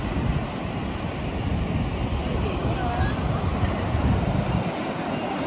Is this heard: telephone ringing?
no